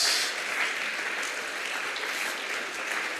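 A congregation claps steadily during an evangelism service in church, a dense, even applause filling the room throughout.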